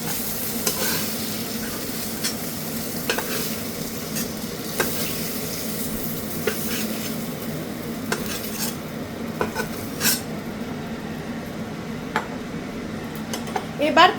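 Brinjal (eggplant) pieces fry in oil in a pan with a steady, close sizzle, punctuated by occasional light clinks of a utensil stirring; no one speaks.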